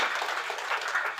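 Crowd applause at a Cooperative Day ceremony in Indonesia: dense, steady clapping from many people, fairly loud and sustained throughout.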